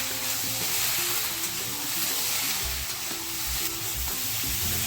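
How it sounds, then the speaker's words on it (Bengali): Pumpkin and potato pieces frying in a pan with green chillies, a steady loud sizzle throughout with scraping stirring strokes at intervals and no talk. "কুমড়ো ও আলুটাকে ভালো করে ভেজে নেব।"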